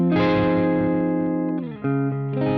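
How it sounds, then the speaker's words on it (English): Sustained electric guitar chords through a chorus pedal at a moderate rate with a gentle shimmer and slight distortion and reverb; one long chord, then a brief dip and a change to a new chord, close and clear. "Let's now put it at noon, a slightly faster rate."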